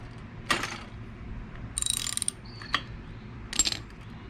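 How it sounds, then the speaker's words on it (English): A ratchet turning a 19 mm socket while installing a spark plug on an Echo string trimmer, giving a few short bursts of rapid metallic clicking separated by pauses, close and clear in a quiet room. "So I'm using a 19 mil socket."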